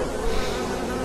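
A swarm of bees buzzes steadily and densely in a spy-themed video game, a constant close drone with no talk over it.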